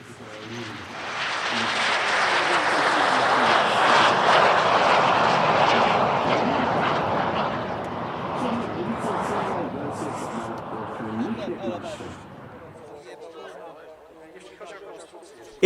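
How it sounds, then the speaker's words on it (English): A pair of classic MiG-15 jets, one a two-seat SB Lim-2 trainer, pass at an airshow with a swelling roar that peaks midway then fades away, a commentator's voice running over it. "2 MiG-15s."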